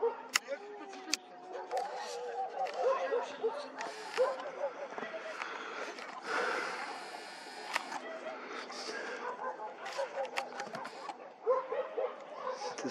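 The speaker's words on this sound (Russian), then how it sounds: "Ты смотри, собаки брешут." Dogs bark and yip in the distance at night outdoors during stargazing, scattered short bursts mixed with whimpers, while people talk nearby.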